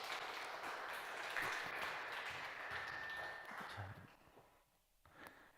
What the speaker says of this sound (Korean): 우리 모두에게 수고하신 분들에게 박수